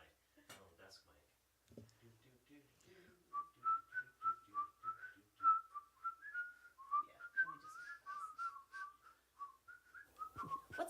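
A person whistles a song melody in a run of clear, wavering notes for several seconds, close and fairly quiet, after a few brief spoken words.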